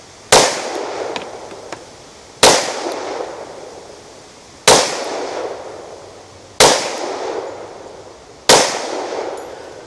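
Five sharp, loud shots from an FN 510 10mm pistol firing Liberty Overwatch ammunition, evenly spaced about two seconds apart, each a crisp crack with a short ringing tail, alone without talk.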